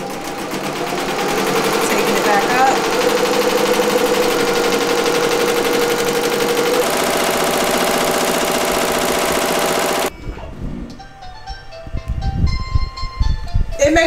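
A home embroidery machine stitches in a steady, loud mechanical whir for about ten seconds, then stops, leaving quieter clicks and handling noises afterward.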